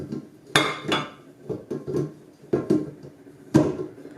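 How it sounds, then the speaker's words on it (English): A glass mixer bowl is set onto the base plate of a KitchenAid 5-quart Artisan stand mixer: several sharp clinks and knocks of glass against metal, close and loud in an otherwise quiet kitchen. "put the glass bowl on the plate"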